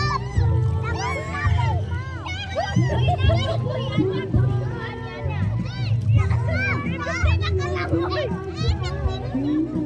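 Children play and call out at a seaside beach, their lively overlapping voices and shouts continuing throughout, loud and close, amid general crowd babble.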